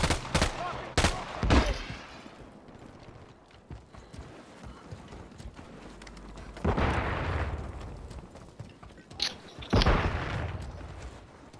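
Gunshots in the video game Warzone: several loud, sharp cracks in quick succession at the start, then scattered bursts of heavier fire and booms later, with little talk.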